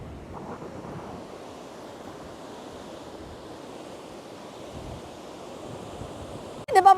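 Strong wind buffets the microphone at the sea, a continuous rough rumble with surf washing underneath, fairly loud and steady, ending in a sudden louder gust.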